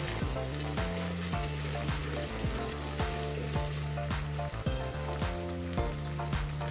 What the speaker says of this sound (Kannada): ಬೆಳ್ಳುಳ್ಳಿ ಮತ್ತು ಸ್ಪೈಸಸ್ ಎಲ್ಲ ಮಸಾಲೆಗಳು ಕ್ರಷ್ ಮಾಡಿದ್ದೆಲ್ಲ ಅದನ್ನು ಹಾಕ್ಕೊಂಡು ಎಣ್ಣೆಯಲ್ಲಿ ಹಾಕ್ಕೊಂಡು ಚೆನ್ನಾಗಿ ಫ್ರೈ ಮಾಡ್ಕೊಳ್ಳಿ